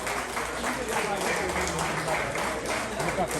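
An audience at a live tribute concert applauds in a dense, steady wash of clapping that carries through the whole stretch, loud and close, with voices mixed into the crowd noise.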